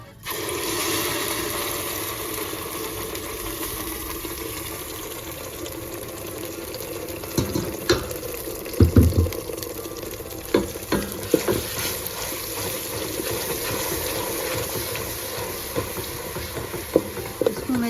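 Masala spices frying in hot oil in a home kitchen pan for chana dal mangochiyan, a steady sizzle throughout with clinks and scraping of a spoon stirring, growing busier toward the end.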